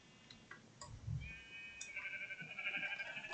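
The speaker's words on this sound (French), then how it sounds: "Ouais, c'est mes moutons." Minecraft sheep bleat, one brief call and then a longer, higher, wavering bleat, fairly faint and alone.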